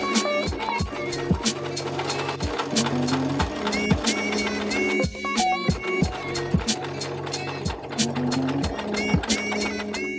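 A home sewing machine runs a straight stay stitch around a dress neckline, a steady mechanical whir with rhythmic needle clatter and occasional knocks, close and continuous.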